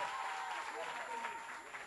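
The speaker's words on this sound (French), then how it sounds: "Est-ce qu'on peut les applaudir encore très fort, s'il vous plaît?" An audience at the launch show of a Wozo holiday contest applauds the Tafipinés of Tafiré, steady crowd clapping heard faintly with voices blended through it.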